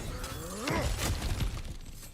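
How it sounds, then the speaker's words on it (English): Cracked ground smashed open in a video game fight with Thor, a loud crunching shatter of breaking rock and debris that bursts and tumbles for about a second before settling. "back to smashing through things for fun and profit"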